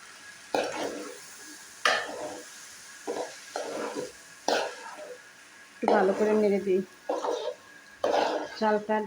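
Mung and masoor dal are stirred and fried in a pot with cooked spice paste, giving repeated scraping and shuffling bursts with a soft sizzle between them, up close.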